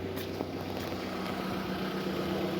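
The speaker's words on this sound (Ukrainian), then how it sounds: "Взагалі тихенько працює двигун" A 2003 Volkswagen Golf 4 with a 1.6 MPI petrol engine idles quietly under the hood, giving a steady, even low hum with a faint mechanical rattle throughout and no talking.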